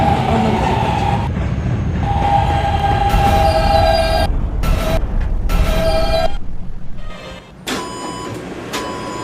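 A K line rail train runs loudly along its tracks, rumbling with squealing wheels and tonal motor whines that start and stop, then the noise drops off near the end.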